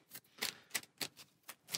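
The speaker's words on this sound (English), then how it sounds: "I'll go ahead and give them a quick shuffle." Stack of game cards for the Shadows of Brimstone board game being quickly shuffled, giving a run of about seven crisp papery riffling bursts in a steady rhythm, close and fairly quiet, with no talking.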